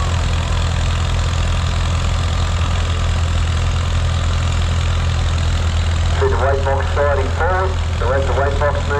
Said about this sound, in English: So the 4270 Perkins diesel engine.